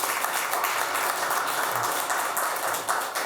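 A crowd at a city council meeting applauds, a dense, steady patter of many hands clapping at moderate distance for a few seconds without pause.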